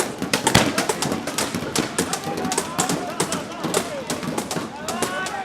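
Police fire tear gas grenades at protesters in Islamabad during a 2016 siege, giving dense scattered thumps and pops from middle distance over crowd noise and shouting voices.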